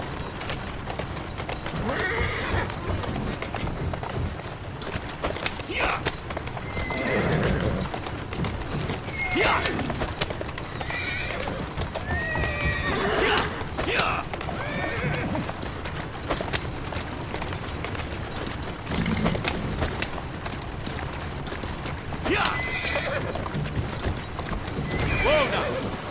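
A horse in Assassin's Creed Syndicate whinnies several times over a steady clip-clop of hooves, close by, with a voice talking between the calls.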